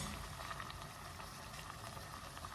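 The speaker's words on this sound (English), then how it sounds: "We let it boil." Cauliflower and greens boil in a pot, giving a faint, steady bubbling hiss with soft, irregular pops and no voices.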